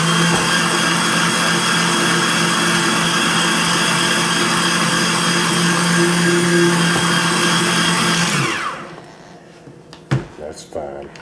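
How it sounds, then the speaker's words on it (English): A stand mixer fitted with a whisk attachment whirs steadily as it smooths vanilla cheesecake batter, a loud constant motor whine with a tonal hum that winds down near the end, followed by a few clanks and faint handling sounds. "we're going to stick the whisk attachment on here and try to get it a little smoother"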